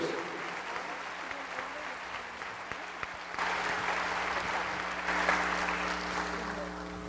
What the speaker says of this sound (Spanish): Vamos a decirles eso con un aplauso